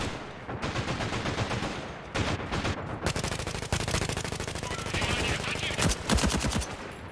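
Rapid automatic gunfire from the tactical shooter game Caliber rattles out in long, dense bursts with brief pauses between them, loud and close.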